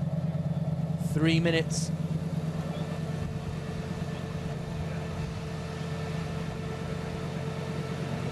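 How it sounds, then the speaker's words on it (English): GT1 racing car engines drone in the background during qualifying at Donington, with one brief rising rev, while a person talks over the steady mechanical hum. "You can hear the engines revving up"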